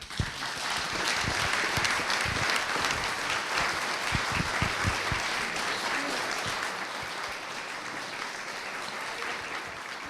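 An audience at a photography exhibition talk applauds warmly, dense continuous clapping that starts strong and slowly thins over about ten seconds.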